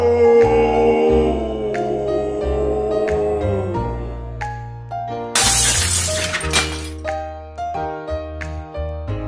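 A magic mirror shatters loudly in a bright crashing burst midway, set against sustained sweeping musical tones before and after.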